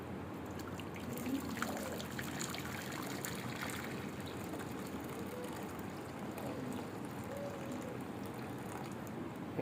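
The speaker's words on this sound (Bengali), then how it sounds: "এখন আমরা এই কড়াইটাতে কিছু পরিমাণ পানি দিব" Water pours steadily into a kadai for steaming pudding, a soft continuous trickle and splash lasting several seconds at low level with no voices.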